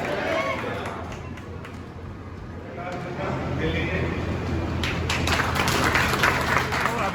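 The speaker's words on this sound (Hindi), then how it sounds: "एक बार जोरदार तालियां हो जाए" A group of pilgrims on a trip to Khajuraho breaks into applause outdoors, a dense patter of clapping that builds toward the end, with voices talking underneath.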